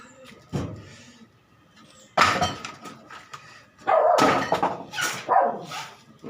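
A dog barks several times in irregular bursts, mixing sharp barks with higher yips and a whimper, fairly close and loud between quiet gaps.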